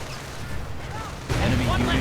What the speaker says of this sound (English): And a sticky bomb to finish it off.